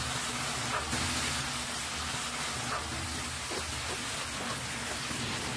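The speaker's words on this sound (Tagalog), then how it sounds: "Pagkagisa ko naman dito sa ating bawang at sibuyas ay agad ko namang sinunod itong ating karne ng kalabaw." Water buffalo meat sizzles and crackles in a pan of sautéed garlic and onion over high heat, a loud, dense and steady frying hiss that continues without a break.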